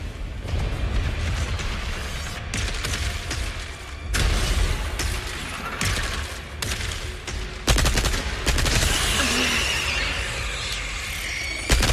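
Repeated handgun gunfire from Resident Evil 4 Remake, aimed at an orb, crackles through a busy game scene in loud bursts and sustained volleys with swelling noise and sharp transient clusters.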